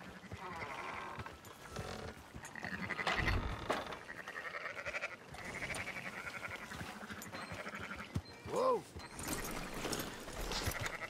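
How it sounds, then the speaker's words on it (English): Sheep bleat in the Red Dead Redemption 2 game, a single wavering bleat standing out near the end over a busy bed of mechanical clicking and ambient game sound, with a voice speaking briefly. "Fine sheep. They're okay."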